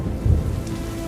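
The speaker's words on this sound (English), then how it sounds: "It began to rain. A slow rain which comforted and purified the Muslims." Dramatized rain effect for a historical battle narration: steady close hiss of falling rain with a low rumbling undertone, continuous and fairly loud, with no voices.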